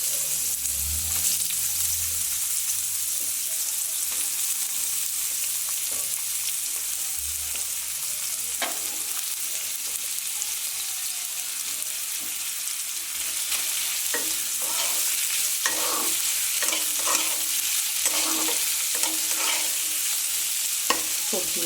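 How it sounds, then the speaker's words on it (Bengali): Potatoes and onions sizzle steadily in hot oil in a pan, with a spatula stirring and scraping in repeated bursts through the second half, close and continuous with no talking. "সবজিগুলো আমি ভালো করে নেড়ে ভেজে নেব। আলু পেঁয়াজ একসঙ্গে আমি ভেজে নেব।"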